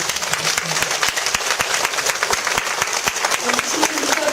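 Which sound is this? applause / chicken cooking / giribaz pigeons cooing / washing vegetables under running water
applause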